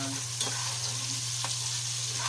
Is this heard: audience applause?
no